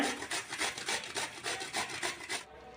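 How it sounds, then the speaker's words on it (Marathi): A washed cucumber is rubbed quickly against a grater in a steady run of close, raspy strokes, about a dozen in under three seconds, before stopping abruptly. "काकडी स्वच्छ धुवून किसून घेऊया"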